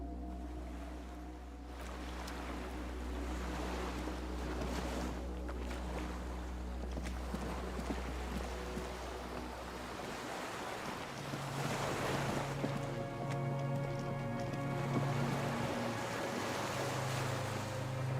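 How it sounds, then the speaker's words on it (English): Waves lap against a small skiff moored by a dock in a video game, a steady wash of water and wind with gentle rocking swells throughout, with no talking. "The skiff is swaying on the waves by the dock."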